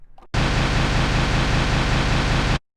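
A steady burst of full-range rushing noise, like hiss or static, starts abruptly, holds evenly for about two seconds, then cuts off.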